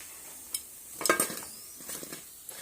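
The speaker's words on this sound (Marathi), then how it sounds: "हलक्या हाताने असं परतून भाजून घ्यायचं आहे" Wheat-flour snacks are roasted in a pan, with a spoon or spatula scraping and clinking against metal in a few scattered strokes over a soft sizzle, close and fairly quiet.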